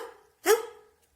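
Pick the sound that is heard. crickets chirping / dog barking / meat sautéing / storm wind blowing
dog barking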